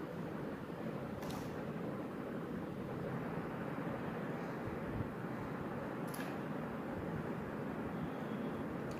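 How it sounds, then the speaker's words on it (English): A homemade BLDC motor with a toroidal rotor, driven by a single coil, runs at high speed with a steady, loud, continuous whir and hum that holds level throughout, with no talking. "the motor is running with high speed even a single coil"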